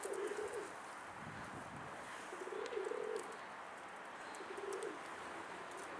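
Several Tutak Dolapçı pigeons coo in soft, low, rolling phrases that come three times at a moderate distance, over a steady breezy outdoor hiss.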